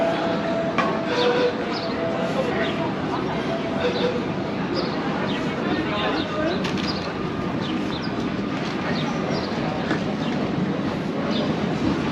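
The Sóller tram runs past at Port de Sóller, a continuous rumbling roll with clicking wheels over the rails and a faint squeal, while pigeons coo and a crowd murmurs nearby.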